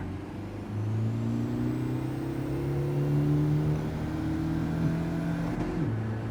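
A car engine in Gran Turismo 7 rises as the car pulls away and accelerates. The pitch climbs steadily and then drops near the end, loud and close, with no talking.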